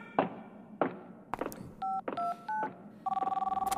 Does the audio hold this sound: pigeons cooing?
no